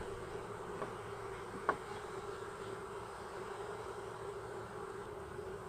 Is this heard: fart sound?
no